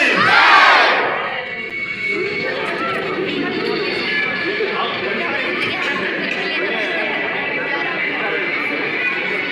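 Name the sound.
children chanting 'jai' cheers for teachers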